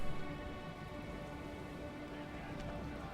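Steady rain hisses across a battlefield in the Rome: Total War strategy game, a dense, even wash of drops that holds at the same moderate level throughout with no voices.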